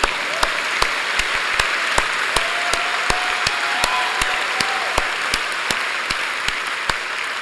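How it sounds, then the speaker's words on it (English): Sustained applause from a seated audience at a university graduation ceremony fills a large hall, a dense steady patter of many hands with a few sharper individual claps standing out. "So applause for that."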